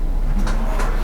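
A kitchen drawer in a 2017 Tiffin Phaeton 40AH motorhome glides on full-extension ball-bearing runners. Two quick, close sliding rolls come a moment apart with no talking.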